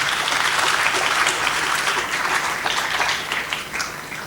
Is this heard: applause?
yes